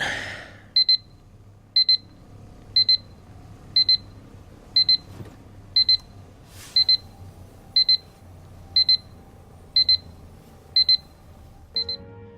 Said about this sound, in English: now you hear the timer go off